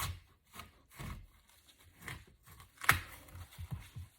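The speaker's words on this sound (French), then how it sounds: "Nous avons maintenant la pomme que nous allons découper en petits morceaux." Knife cutting an apple into small pieces on a board, giving soft repeated chopping and slicing strokes at a steady rhythm, close and fairly quiet, with one sharper crisp cut partway through.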